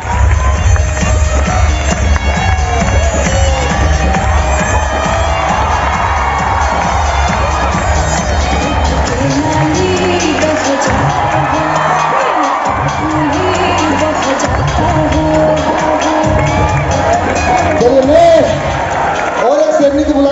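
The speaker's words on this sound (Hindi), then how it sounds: "जोरदार ताली होना चाहिए, जोरदार ताली होना चाहिए।" A large outdoor crowd at a recognition event at Gandhi Maidan in Patna cheers and whoops in a loud, continuous roar, with heavy low rumble early on and shouting voices rising and falling throughout.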